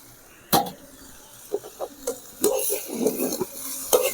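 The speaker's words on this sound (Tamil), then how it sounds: "நம்ம அந்த சோறை கலக்க போகிறோம்." Cooked rice being stirred into fried rice with capsicum in a pan: close scraping and knocking strokes at an irregular rhythm over a soft sizzle, with no one talking.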